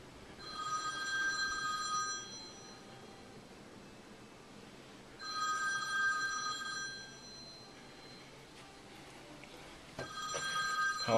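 Mobile phone ringing indoors during a walkthrough of a house in Windermere, Florida, three separate electronic ringtone bursts of about two seconds each, separated by quiet pauses, fairly faint over a soft hiss.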